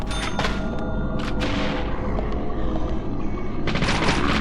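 Shotgun gunfire in the video game Deadly Premonition, with dense, loud booming blasts that nearly fill the whole stretch and no speech over it.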